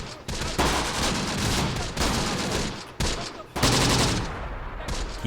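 Sustained rolling gunfire in the WWII desert tactical game Close Combat: The Bloody First, dense volleys of rifle and machine-gun shots with brief lulls, loud and continuous throughout.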